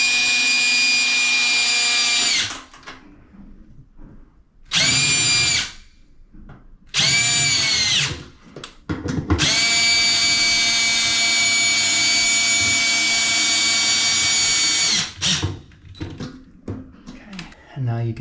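Power drill driving 1/4-20 by 2-inch stainless steel screws, several long whirring runs of a few seconds each with short gaps, close and loud, with brief speech between bursts.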